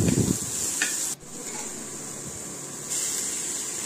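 Chopped green chillies drop into a hot pan with ginger-garlic paste and are stirred, giving a steady close sizzle with a scrape of the utensil near the start and the frying growing louder toward the end.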